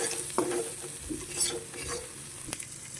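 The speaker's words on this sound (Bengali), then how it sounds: "এবার এগুলো সব আমি একসাথে মিক্স করিয়ে দেবো।" Fenugreek greens and scrambled egg being stir-fried together in a pan, a soft sizzle under scraping spatula strokes that knock against the pan a few times, close and fairly quiet with no talk.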